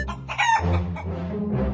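A cartoon chicken clucks and crows in a PAW Patrol video game, a short loud burst of squawking up close.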